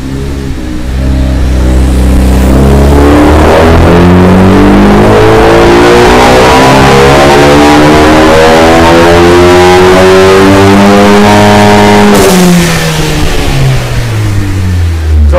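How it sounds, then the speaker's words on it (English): A loud Ford Focus ST engine revs up steadily on a dyno and holds at high, strained speed for a long stretch, then drops back briefly before climbing again. "I'm about to do a dyno run"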